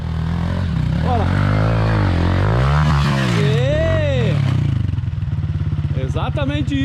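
A motorcycle engine revs and accelerates on a road, its pitch rising and falling loudly up close, with people talking over it.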